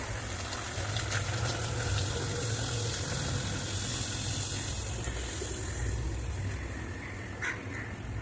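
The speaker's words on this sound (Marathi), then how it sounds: "आता आपण पुरी टाकून घेऊया आणि तळून घेऊ व्यवस्थित" Spinach puris deep-frying in hot oil, a dense steady hiss and bubbling that runs without a break, close and fairly loud, with a few faint clinks near the end and no talking.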